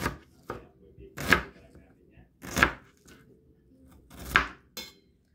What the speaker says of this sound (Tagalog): Let cut these onions to put on the marinated pork for menudo.